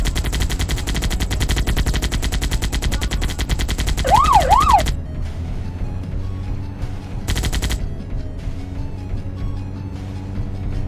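Rapid machine-gun bursts from the video game Flying Wild Tiger Robot rattle loud and close, with a warbling siren-like tone sweeping across the middle, then sparser shots and a mechanical hum.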